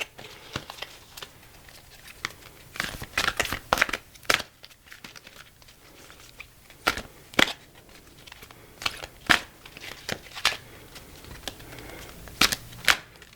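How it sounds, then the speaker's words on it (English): Thick tarot cards shuffled close by, heard as irregular dry riffling bursts and sharp papery snaps scattered through a quiet room, with no talking. "It's not as easy to shuffle these. These are very thick cards"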